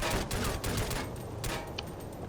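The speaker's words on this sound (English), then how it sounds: "Shoot enough bullets and hope they hit the target, as Sean Connery would say" Rapid automatic gunfire in the video game SOCOM US Navy Seals, dense loud bursts of shots rattling continuously at close range with no voices.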